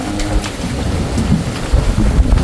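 Heavy rain and gusting wind of an approaching storm at sea, heard from a boat in the West Philippine Sea near Chinese vessels, a steady loud broadband roar with low rumbling surges throughout and no talk.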